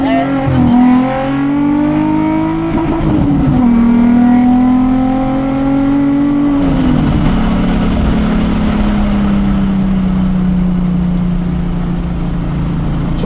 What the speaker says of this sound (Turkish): Şöyle biraz daha gazlayalım.